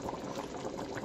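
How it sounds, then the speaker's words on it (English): Fish soup simmering in a pot, a soft continuous bubbling and burbling of liquid, close and steady over a brief moment with no talk. "Very important for it to slowly simmer, because fish is going to start breaking down on you"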